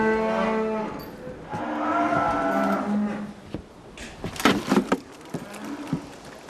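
Cattle aboard a sailing ship lowing in a chorus of long, overlapping moos, loud and close, followed by knocks, thumps and shuffling of hooves and gear.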